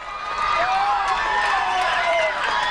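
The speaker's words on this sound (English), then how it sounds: "Got the Plains cheering section right down in front of us, so I'm sure you can hear them well." The Plains cheering section roars at a 1999 championship track meet: a dense, steady crowd of shouts, whoops and cheers carries close by for a few seconds, with a voice faintly talking over it.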